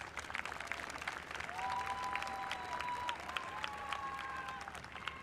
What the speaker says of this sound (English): Can we please give all of our staff members a round of applause